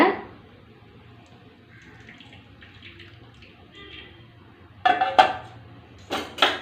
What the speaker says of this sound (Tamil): இப்போ இதை நல்லா ஃபில்ட்ரு பண்ணிக்கலாங்க